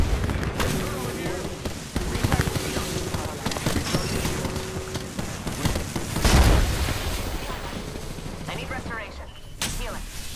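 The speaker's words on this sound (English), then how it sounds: "Look out, grenade." During an Apex Legends firefight, a grenade explodes with one deep, heavy boom midway, set among gunfire, in-game effects and character voice lines.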